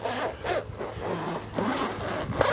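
Zipper on a simple bike lock pouch being undone, a few short rasping pulls in quick succession, close and clear with no talking.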